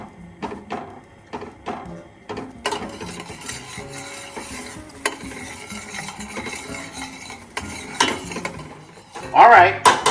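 A spoon stirs melting butter in a metal pot, giving intermittent scraping and clinking knocks against the sides with a faint sizzle underneath and louder clatter near the end.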